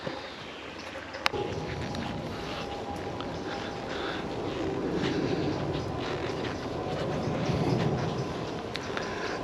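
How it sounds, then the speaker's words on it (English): A train roars past beside an outdoor nature pathway, a broad continuous rumble and rush that swells slightly toward the end, with faint clicks over it and a sharp click near the start. "To the left of me there's a train roaring past"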